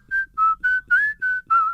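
A person whistles the tune Camptown Races, six clear sustained notes in a steady melodic rhythm, close and alone with no talk.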